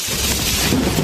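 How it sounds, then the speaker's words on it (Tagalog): Heavy rain falling in a blustery downpour, a dense, loud, continuous roar with a rumbling low end that suggests wind, brief and unbroken, with no voices. "Umuulan na pa."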